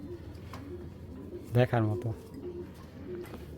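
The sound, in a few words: pigeon cooing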